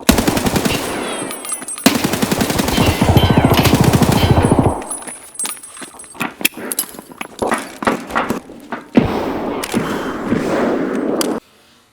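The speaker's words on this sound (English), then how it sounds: "We try to put some suppressing fire on this guy, but we actually get lucky and take him out with the first burst" Gunfire in the video game Escape from Tarkov: long loud automatic bursts up close, followed by scattered sharp single shots and shorter bursts with brief pauses between them.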